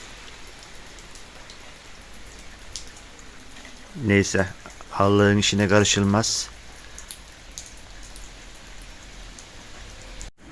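Steady rain falls outdoors over a grassy yard, a constant close hiss with dense patter on surfaces, while someone speaks briefly partway through.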